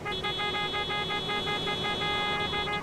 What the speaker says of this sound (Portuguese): Vamos buzinando, igual os dois.